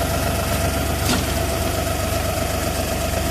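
An LS XG3140 compact tractor's engine idles steadily nearby, a constant broadband rumble with a low hum that holds even throughout, with no voices over it.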